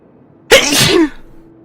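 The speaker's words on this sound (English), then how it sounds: "I'm gonna sneeze" One loud, close sneeze bursts out sharply and fades within about half a second, with near silence around it.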